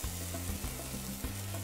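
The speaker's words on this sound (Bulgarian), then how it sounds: "И сега трябва да обърна шайбите лук, за да се види до каква степен са се запекли." Onion slices sizzle steadily in a frying pan, a dense continuous crackle with a few soft bumps as the slices are flipped, close and fairly loud with no voices.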